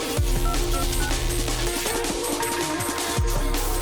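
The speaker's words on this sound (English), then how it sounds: "Some phone sounds." Beeping telephone dialing tones are woven into a loud, dense metal-influenced track with full instrumentation and a drum beat.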